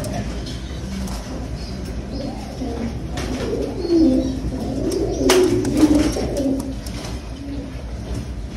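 Several pigeons coo in low, rolling murmurs close by, the calls overlapping and swelling midway, with occasional sharp rustles or wing flicks and no speech.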